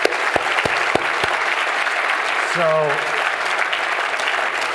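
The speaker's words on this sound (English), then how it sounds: "let's give Kevin a big round of applause" Audience at an award dinner applauding a guest named Kevin, a dense burst of clapping filling the room throughout, with someone speaking briefly over it partway through.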